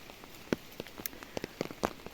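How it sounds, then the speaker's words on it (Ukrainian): The first autumn rain patters on a surface in the morning, scattered drops tapping irregularly over a soft steady hiss. "сьогодні перший осінній дощ."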